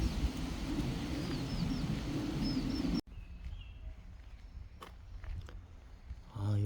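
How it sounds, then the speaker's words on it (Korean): Birds call and chirp outdoors during a walk, with high short whistles over a steady dense background wash; the ambience then drops off, leaving faint scattered chirps and clicks. "새소리가 굉장히 좋지 않나요?"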